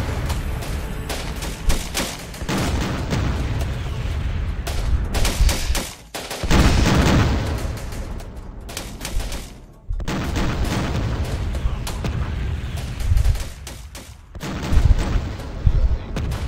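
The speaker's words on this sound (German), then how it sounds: "Ihr schießt aus allen Ecken und Enden." Sustained gunfire in Syrian Warfare: dense bursts of rifle and machine-gun fire with heavy booms, loud and continuous across the battle, broken only by a couple of brief lulls.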